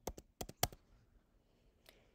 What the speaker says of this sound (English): So let's begin typing that path.